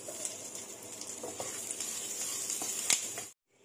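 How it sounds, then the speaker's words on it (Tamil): Sesame seeds, dals and curry leaves roasting in a pan give a steady close sizzle and crackle with a few light stirring clicks, ending abruptly in silence. "அடுத்தது ஒரு கைப்பிடி அளவுள்ள கருவேப்பிலை சேர்த்துட்டு இதை நல்லா ரோஸ்ட் பண்ணி எடுத்துக்கலாம்."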